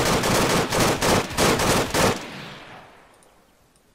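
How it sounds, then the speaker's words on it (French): Automatic gunfire in ARMA 3 cracks out in a loud rapid burst for about two seconds, then fades into a long echoing tail. "Attention, ça tire."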